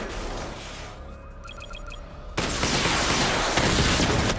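Batmobile missile barrage in Batman Arkham Knight, a quiet stretch with a few beeping tones, then a sudden loud, sustained roar of launches and blasts that fills the rest of the moment.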